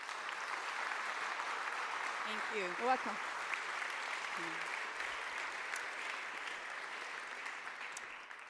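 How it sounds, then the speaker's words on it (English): Steady, moderately distant audience applause welcomes a keynote speaker at a talk on democracy in Europe. It continues evenly throughout, with a brief spoken exchange in the middle. "Please give a big hand of applause"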